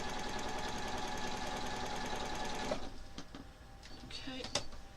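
Sewing machine stitching quilt pieces, a steady close whirring drone for nearly three seconds that then stops, followed by soft handling noises and light clicks.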